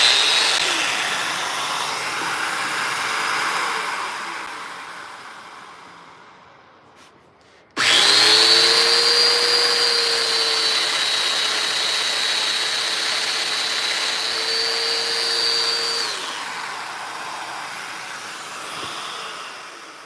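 A Festool Domino joiner cutting a mortise in wood, a motor whine that fades out, then restarts sharply and runs at a steady high pitch for several seconds before winding down.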